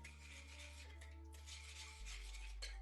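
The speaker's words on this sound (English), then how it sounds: "I'm just going to give that a quick stir." A spoon stirs a bowl of yeast, sugar and water, making soft scraping and clinking against the dish, with a steady low hum in the background.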